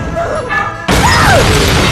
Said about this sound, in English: which leads to the second explosion